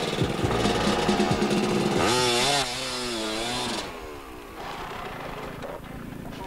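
A motorcycle engine revs hard during an enduro rally, loud and close, with rising and falling pitch sweeps as the bike accelerates, then drops to a lower steady drone as it pulls away.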